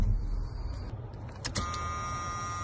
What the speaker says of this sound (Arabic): الحين بنطفي السيارة